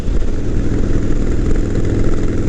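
A 2018 Harley-Davidson Sportster 1200 Iron engine while riding, a loud deep steady rumble dominated by low throbbing exhaust pulses with wind-like broadband noise above, close and continuous, no talking.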